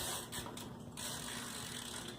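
Ratcheting freewheel of a GRIT Freedom Chair chain drive, a steady run of fine mechanical clicks as the wheel spins freely and then catches, close and continuous over about two seconds.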